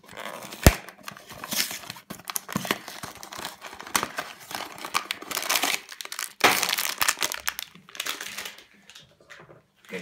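Plastic packaging crinkles and tears up close in irregular bursts of crackling and rustling, with a sharp snap near the start and no talking.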